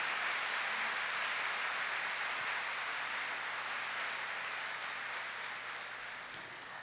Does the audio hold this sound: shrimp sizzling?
no